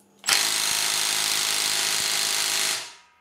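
A Parkside Performance 12V brushless cordless impact wrench, rated 350 Nm, runs in reverse loosening mode, giving one continuous loud rapid hammering rattle for about two and a half seconds before winding down, close to the microphone.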